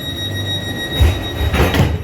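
An Isle of Wight Island Line train made from former London Underground stock, heard from on board with a steady rumble of wheels and motors and a couple of louder clunks, with no voices.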